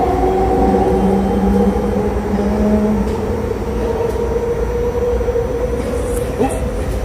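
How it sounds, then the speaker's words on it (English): A Vancouver Millennium Line SkyTrain pulls into a station, its steady electric hum and rumble loud and continuous with a rising whine near the end, while people talk faintly in the background. "here she comes. Here comes the SkyTrain."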